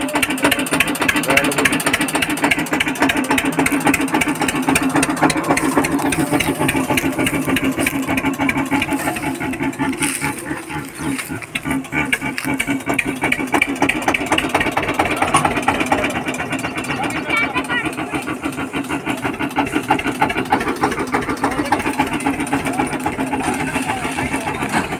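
A tractor with a trolley hitched idles close by, a steady, loud mechanical chugging that runs unbroken for the whole stretch, with voices talking over it.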